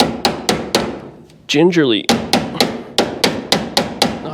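A trim hammer knocks washers into place on a 1957 Chevy, giving a run of sharp, close, evenly spaced metallic taps, with a brief pause where someone says a word.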